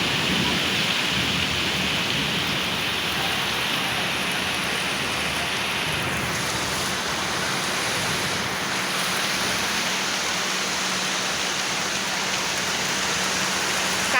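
Heavy rain pours steadily outside a window during a thunderstorm, a dense, loud hiss of falling water with a soft low rumble of thunder underneath, continuous and close with no voices.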